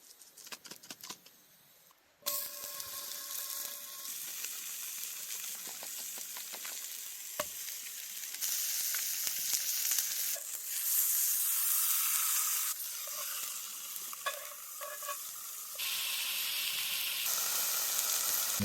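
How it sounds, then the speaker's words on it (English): Fish seasoned with Smoky Bayou seasoning sizzles and spits steadily as it cooks over a bed of campfire coals in the Appalachians, a close, continuous frying hiss that swells louder partway through, with no talking. "Time to cook the fish."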